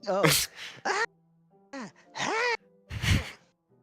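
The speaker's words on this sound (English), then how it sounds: "Sounds like breathing. A sharp inhale, like someone is sucking the air through their teeth." Sharp breathing inhale through teeth from the Doki Doki Literature Club video game, a few short hissing breath sounds and gasps separated by brief pauses, close and clear.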